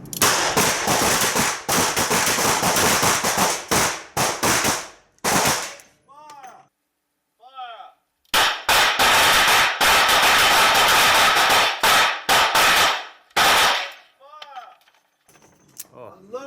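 Pistol gunfire on a police pistol shooting course, two rapid strings of sharp, loud, close shots separated by a pause, with metallic clinks and quiet handling noises in the gaps.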